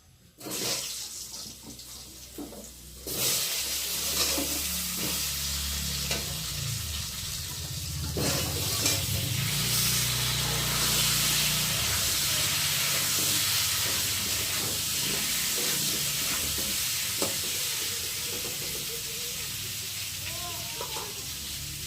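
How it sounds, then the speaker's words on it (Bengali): Cut potatoes go into hot oil with a tempering of cumin seeds and bay leaf, giving a loud, steady sizzle and hiss that carries on unbroken from near the start to the end. "এখন কেটে রাখা আলুগুলোকে দিয়ে ফোড়নের সাথে একটু ভালো করে ভেজে নেব"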